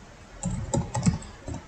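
Keystrokes on a computer keyboard while an SQL insert query is entered, a handful of distinct clicks in an irregular burst, close and moderately loud with no talking.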